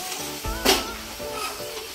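Malabar spinach leaves and shrimp frying in a pan as they are stirred, a close steady sizzle with a sharp scraping burst of the spatula partway through, then quieter crackling, with faint voice in the background.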